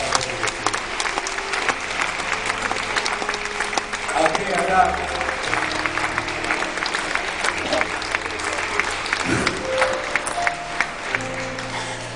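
Audience applause at a disco, sustained clapping from a crowd that runs throughout over low background music, with someone speaking over it briefly.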